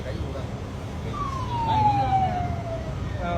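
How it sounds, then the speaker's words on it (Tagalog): A police car siren sweeps past on a street, a single falling wail rising out of steady traffic rumble and fading within a few seconds. "may dumaan pang pulis"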